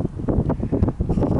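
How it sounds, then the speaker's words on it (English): Gusty wind buffets the microphone in low, rumbling bursts, loud and close, with no other sounds standing out. "Pretty windy out here today."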